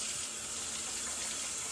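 Warm water running steadily from a tap or being poured over raisins in a bowl to soak them, a continuous gushing, hissy stream that stays even and close throughout.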